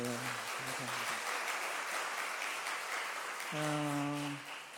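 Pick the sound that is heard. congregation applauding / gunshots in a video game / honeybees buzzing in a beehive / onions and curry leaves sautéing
congregation applauding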